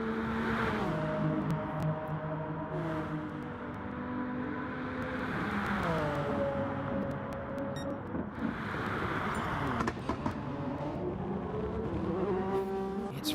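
A race car fires out of the first chicane at Monza during an endurance series round, its engine loud and close, climbing through the gears with shifts and steady harmonic whine, another car's engine audible nearby.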